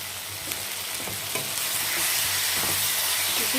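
Onions with tomato sauce or ketchup sautéing in a pan for hotel-style prawn chilli, a steady close sizzle with faint stirring scrapes, no voices.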